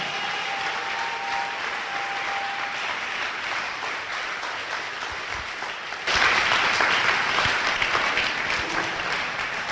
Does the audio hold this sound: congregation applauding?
yes